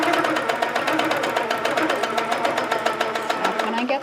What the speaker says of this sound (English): I'm going to stitch half that circle.